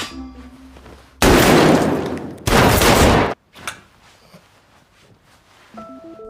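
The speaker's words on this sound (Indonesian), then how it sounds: "mereka pun saling tembak" Two loud, dense bursts of rapid gunfire from a shootout in a mafia gang film, each lasting about a second, then a few sharp knocks and quiet, ending with a short rising musical tone.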